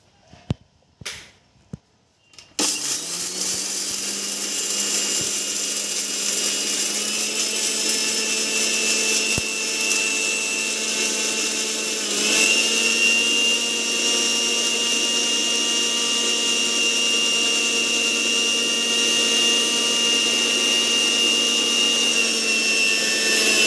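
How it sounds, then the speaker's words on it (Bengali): An electric mixer grinder runs steadily after a short clatter at the start, grinding whole roasted spices for a raw mango pickle, with a loud, constant whirring drone and no talking. "গোটা মশলাগুলো ঠান্ডা হয়ে গেছে, এবার একটা মিক্সারে মিক্সি করে নিতে হবে।"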